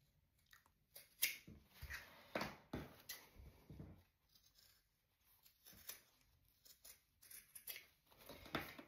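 Scissors trimming a fabric seam allowance around curves during sewing, a series of close, quiet snips coming in irregular bursts with short pauses between cuts.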